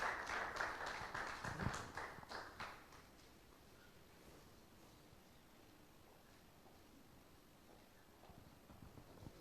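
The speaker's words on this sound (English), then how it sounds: "Please, let's welcome her with applause as she comes." Audience applause welcoming a speaker onto the stage at a regional conference on press freedom in West Africa, a burst of clapping that swells in the first few seconds then fades into quiet room tone.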